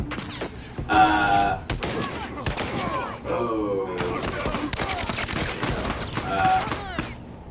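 Bursts of gunfire in The Last of Us Remastered multiplayer on PS4 crackle loudly over game sounds, while voices talk alongside throughout.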